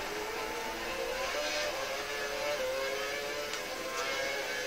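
A rival Formula 1 car in a racing video game at the India circuit drones steadily as a high, buzzing engine whine in the background, continuous and unbroken throughout.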